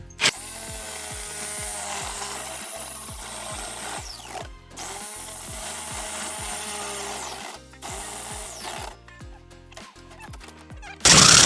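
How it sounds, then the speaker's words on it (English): Jigsaw cutting, with close, loud buzzing in rapid rhythmic strokes that pause briefly between runs and ends with a sharp burst of noise. "so I can use the jigsaw and finish that."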